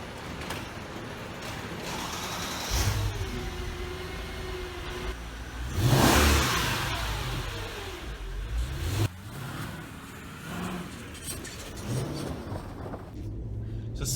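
A Mercedes ML55 AMG performance SUV with a V8 engine revs in a garage, its exhaust note swelling in a few loud bursts over a steady idle rumble, close by with no talk.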